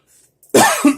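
A single sharp cough up close, a quick harsh burst with a short throaty tail, after near silence.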